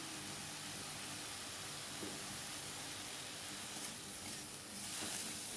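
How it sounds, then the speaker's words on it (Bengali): Leafy greens fry over lowered gas heat in a pan, producing a steady, close broadband sizzle and hiss with slight swells near the end and no speech. "গ্যাসের জোরটা কমিয়ে দিলে আস্তে আস্তে অল্প আছে শাকটা বেশ সুন্দর ভাজা হয়ে যাবে।"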